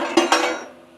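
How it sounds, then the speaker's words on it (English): Metal bacon press clinking inside the hot box of a Bad to the Bone Fridge 60 smoker: two sharp close metallic clanks a split second apart, ringing briefly and fading into quiet. "that noise you heard in there was a bacon press"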